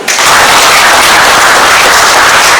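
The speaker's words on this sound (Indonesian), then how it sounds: "Tepuk tangan dulu." An audience at a community security forum meeting with city government bursts into loud, dense applause that holds steady throughout, close and full, with no talking over it.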